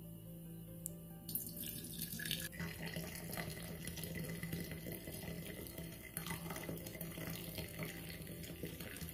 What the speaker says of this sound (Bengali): চাটাকে গরম অবস্থায় এখন ফ্লাক্সে ঢেলে নিচ্ছি